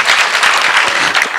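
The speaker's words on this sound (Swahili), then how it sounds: "Tuwapigeni makofi tafadhali Malu." Steady, dense applause from an audience at a youth engagement forum in Makueni County, a continuous burst of many hands clapping without pause for over a second.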